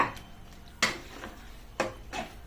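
Curry leaves are stirred into potato masala in a pan, giving a few sharp, close scrapes and clinks of a spoon against the pan spaced through a quiet moment.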